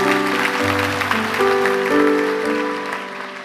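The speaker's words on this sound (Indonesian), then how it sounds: "Kasih tepuk tangan untuk Tuhan dong kalau udah dengar begitu." A congregation claps during an Indonesian church sermon by Philip Mantofa, with sustained applause over sustained organ or keyboard chords that fade gradually toward the end.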